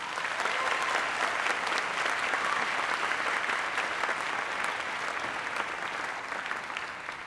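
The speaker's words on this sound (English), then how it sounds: "Let's give them a round of applause." An awards-ceremony audience gives a sustained round of applause, a dense, even wash of many hands clapping at moderate distance, steady for about seven seconds with no speech.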